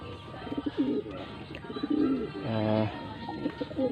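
Racing pigeons coo at a training site in Moncada, Tarlac, with soft repeated throaty coos close by and light chirps in the background.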